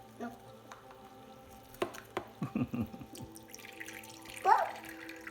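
Water trickles and drips from the tap of a toy kitchen wash-up sink, a few soft splashes and drips close by with quiet room noise, while a child and adult murmur faintly in the background.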